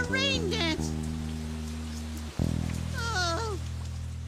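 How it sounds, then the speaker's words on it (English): Rain falls as a steady broadband hiss throughout, under squeaky, gliding animal-like vocal calls and a sustained low droning tone. "Rain coming, yay!"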